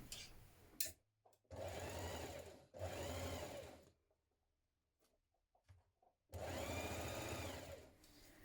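Sewing machine stitching binding onto a dress neckline at a half-inch seam allowance: three distinct bursts of rapid mechanical whirring, separated by pauses with small handling clicks, close and clear, no voices.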